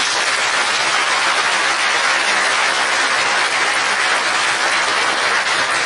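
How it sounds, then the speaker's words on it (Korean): Congregation applauding during a Sunday afternoon church service in Incheon, a steady, dense wash of clapping that holds at an even level throughout with no voices over it. "한번 큰 박수 부탁드립니다"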